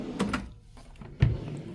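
A large drawer in a balcony stateroom on the Royal Caribbean cruise ship Odyssey of the Seas being slid open, two short wooden thuds and scrapes close by with a sharper knock near the end, no talking.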